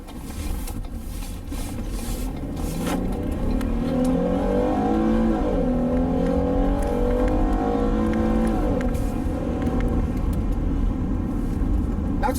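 Ford Flex Limited AWD driving and accelerating, its engine droning loud and steady from inside the cabin with a rising, then falling rev sweep mid-run.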